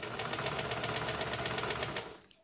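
A sewing machine runs steadily, stitching a thin cord for a blouse in a fast, even rhythm up close, then winds down and stops at the end.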